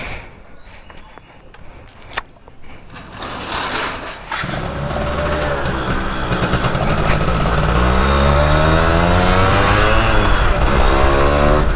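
A Yamaha F1ZR two-stroke motorcycle with a ported block, first heard faintly with clatter, then pulling away into a loud, buzzing engine note that climbs steadily as it rides off and keeps revving near the listener.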